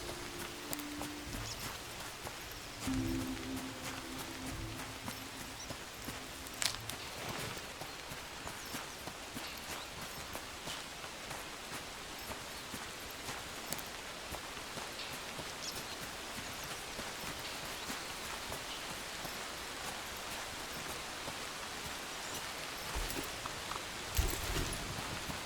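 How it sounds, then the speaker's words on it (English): Steady rain in the video game Among Trees patters across the whole stretch as a dense, even hiss, with occasional louder splashes and a few low thuds. "Alright, seems to be raining again."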